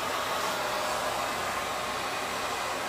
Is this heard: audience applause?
no